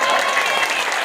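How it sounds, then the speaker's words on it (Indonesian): Dense, steady applause from an audience at a humorous religious lecture during a Maulid gathering, a broadband patter of many hands holding evenly for about a second. "tepuk tangan dong"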